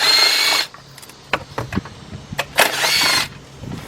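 A power tool, likely an impact driver, removes oil pan bolts beneath a Chevy Equinox engine. Two loud sustained bursts, one at the start and one later, are separated by scattered clanks and handling noises up close.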